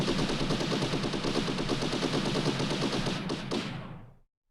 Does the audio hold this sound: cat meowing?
no